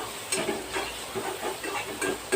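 Small onions frying in oil in a pan until golden, a steady low sizzle broken by repeated stirring scrapes, close and fairly quiet with no talk.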